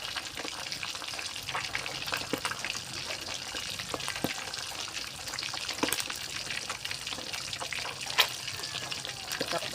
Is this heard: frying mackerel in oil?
yes